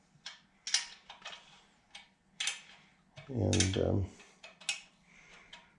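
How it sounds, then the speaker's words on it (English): Wrench work loosening the rocker arms on a VW 1641 dual port engine: sharp metallic clicks and scrapes in scattered bursts, close and fairly quiet, with one short spoken word in the middle. "I'm just loosening up the rockers so I can remove them"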